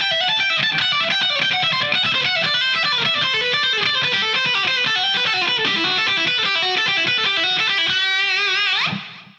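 Electric guitar plays a fast, smooth legato run of pull-offs with very little picking, a continuous stream of notes loud and alone before ringing out briefly at the end.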